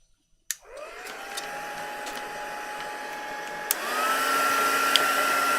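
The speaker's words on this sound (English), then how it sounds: "I might just give it a once over with a dryer." Hair dryer blowing over a handmade craft project, clicking on sharply and settling into a steady whirring drone, then stepping up to a louder, higher setting partway through, with a few small knocks and no speech.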